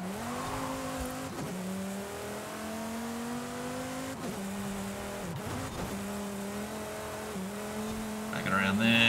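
Car engine holding a steady drone then dipping and rising as a race car slides around a sharp corner at the Vista del Mar circuit in Forza Horizon 5, with brief revs and a faint tire noise near the end.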